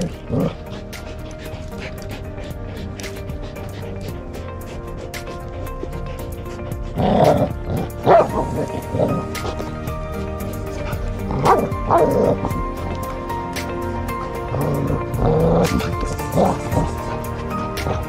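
Two dogs, Odin and Gotham, bark, yip and whimper during a tug of war game, loud close bursts scattered over about eighteen seconds with people talking throughout.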